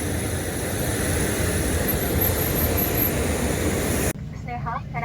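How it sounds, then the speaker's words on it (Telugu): IndiGo passenger jet taking off at an airport, a loud broadband roar sustained for about four seconds before cutting off sharply, followed by a person talking over quieter background noise. "అది ఇండిగో ఫ్లైట్ టేక్ ఆఫ్ అయ్యింది."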